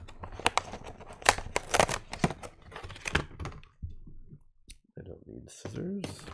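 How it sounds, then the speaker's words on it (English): Scissors cutting through toy packaging for McFarlane Warhammer 40k Space Marine figures, a rapid series of sharp crisp snips and crackles close by, then a pause and a few more clicks as a person talks. "Scissors."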